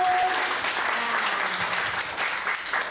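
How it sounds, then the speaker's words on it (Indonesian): A church congregation at a Sunday worship service applauds steadily, a dense wash of many hands clapping at once, with a few faint voices underneath. "Berikan tepuk tangan Bapak Ibu."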